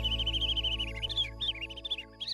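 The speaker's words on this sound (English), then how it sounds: "A bird that only comes out at night. The lesser striped sunflower warbler." A rare cartoon bird, a lesser striped sunflower warbler, sings a continuous high warbling trill at night, with wavering chirps and brief breaks, layered over a steady musical background.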